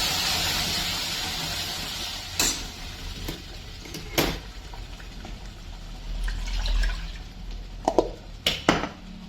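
Water poured into a pot of ground urad dal for a rustic village dish, a soft steady trickle with a few sharp clinks of utensils, fairly close and moderately quiet.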